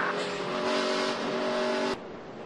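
NASCAR race cars roaring around the Loudon track in a loud, sustained engine blare, several cars revving and passing close, with the pitch shifting as they go by and no talking.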